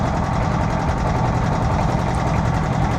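A boat engine drones steadily on the Meghna River, a continuous low-pitched rumble that stays at a constant level throughout with no talking.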